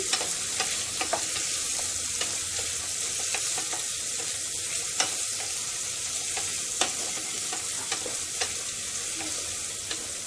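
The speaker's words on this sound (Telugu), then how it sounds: "ఉల్లిపాయలు వేసుకున్న తర్వాత గోల్డెన్ కలర్ వచ్చేదాకా మనము ఫ్రై చేసుకోవాలి." Onions sizzle in a frying pan as they cook to golden for a paneer biryani, a continuous crackling hiss with occasional stirring clicks and scrapes, close and steady throughout.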